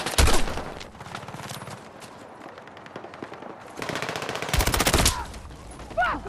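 Assault rifle fire crackles in Battlefield 6: a loud burst opens, then scattered distant shots, then two heavy rapid automatic bursts near the end, with no speech.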